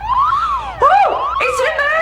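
A loud electronic alarm siren wails continuously with rising and falling sweeping tones, filling the whole stretch without pause in an indoor setting.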